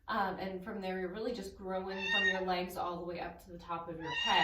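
A pet cat meowing repeatedly during a home yoga class, its drawn-out, rising and falling cries close to the microphone and mixed with an instructor speaking calmly over them.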